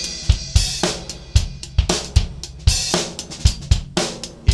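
Drum kit playing a steady groove of kick, snare and cymbal hits for three bars, then a busier one-bar fill with rapid strokes, close and loud with no talking.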